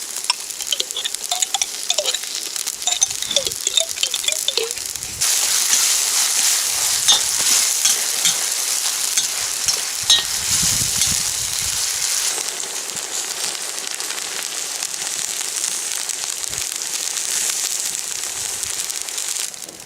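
Tomato paste going into a large pot of meat soup made with smoked meats, sizzling and crackling steadily and loudly for about twenty seconds, with stirring scrapes and soft patter throughout.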